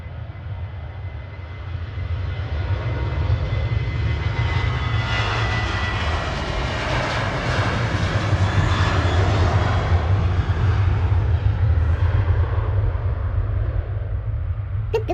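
Ryanair Boeing 737-800 jet departing Manchester Airport at night, a loud steady engine roar that swells and holds for the whole stretch, heard from nearby with no talking.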